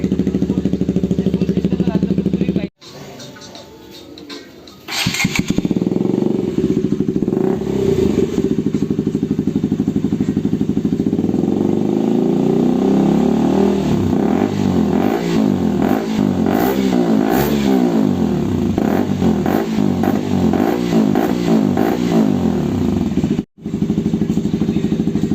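A KTM RC200 sport bike fitted with an aftermarket bend-pipe exhaust revs loudly and close by, with a brief pause, then sustained throttle blips and rising, falling engine roars that continue throughout.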